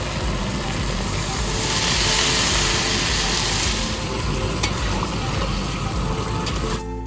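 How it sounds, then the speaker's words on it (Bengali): Water poured into a hot pan of chilli chicken to make gravy, a loud steady rush and bubbling hiss that swells midway and eases off toward the end, with faint background noise throughout. "এবার জল দিয়ে ঝোল বানিয়ে নিচ্ছি, মানে ঝোল বলতে গ্রেভি করে নিচ্ছি"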